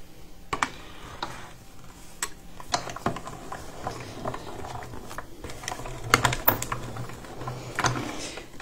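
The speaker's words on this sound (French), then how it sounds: "Donc j'utilise la machine de découpe." Hand-cranked die-cutting machine pressing a punch through scrap paper, giving quiet irregular clicks and ratcheting ticks over a low hum, close and faint.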